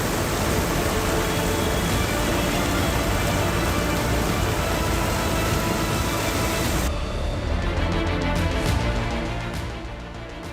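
Heavy monsoon rain pouring down in Tehri, Uttarakhand, a loud continuous wash of falling water that thins somewhat near the end.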